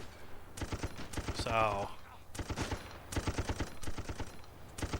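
Rapid bursts of machine gun fire from a stationary gun turret in a retro video game, several rattling volleys with short gaps, a brief synthetic tone in between, and a voice speaks briefly.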